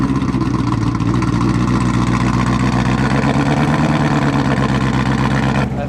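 A BMW E90 M3 engine idling rough and misfiring after blowing up, a loud, close, uneven low rumble that carries on steadily throughout.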